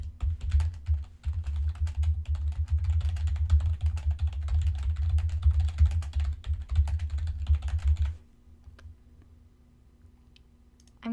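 Rapid, steady typing on a computer keyboard during a speed test, dense clicking keystrokes close up for about eight seconds before stopping into near silence.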